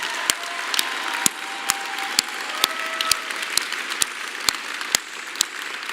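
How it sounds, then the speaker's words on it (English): Audience applause at a pharmacy school commencement in a symphony hall, honouring award finalists: sustained clapping from a large crowd with sharp, distinct individual claps standing out close by. "Let's have a round of applause for all of them."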